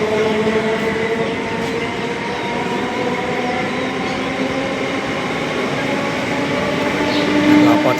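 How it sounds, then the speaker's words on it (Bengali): A train pulls out of Habibpur station bound for Sealdah, its steady rumble and rolling clatter sustained throughout, with a brief high wheel squeal near the end. "ছেড়ে দিল ট্রেন"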